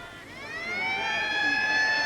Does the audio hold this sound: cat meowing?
no